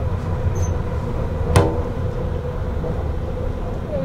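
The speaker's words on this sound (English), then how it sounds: "the train is running a lot smoother" Heard from onboard the Indian Pacific train in Australia, it rumbles steadily along the tracks, with a continuous low rolling drone and one brief metallic clank midway.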